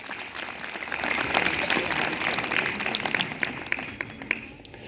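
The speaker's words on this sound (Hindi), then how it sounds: "उनके लिए जोरदार तालियां।" A gathered audience applauds volunteers at a community event, clapping swelling quickly then tapering off over a few seconds, with scattered sharper claps standing out near the end.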